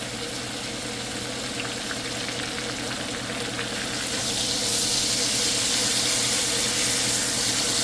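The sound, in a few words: steak fat searing in a hot pan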